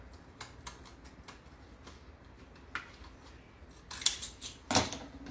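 Small scrapbook scissors snip paper for a handmade bow: a run of light, crisp clicks, then two louder, sharper cutting bursts near the end, close up with no talk.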